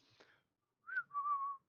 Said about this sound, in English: Just casual whistles.